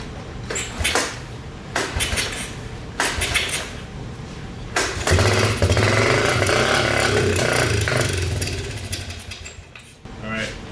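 An engine on a three-wheeler that sat in a barn for 25 years is cranked with clattering attempts, then catches and runs roughly for several seconds before dying away, with talk and mechanical knocks nearby.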